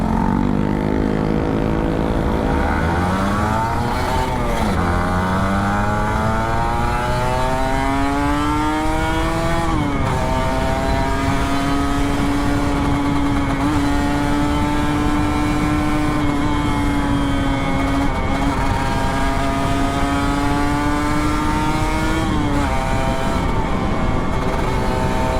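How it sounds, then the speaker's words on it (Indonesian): An older Kawasaki Ninja RR 150 two-stroke motorcycle accelerates hard along a long open road, its engine wailing up through the gears with rising pitch sweeps and brief dips at shifts, loud and close throughout, wind rushing underneath. "Ini jalan panjang, gue coba ngegas."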